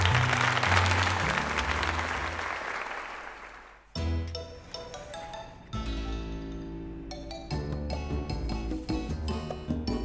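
Crowd applause in the Pokemon Legends: Z-A video game after a tournament win, a dense sustained clapping that fades out around four seconds before upbeat game music takes over.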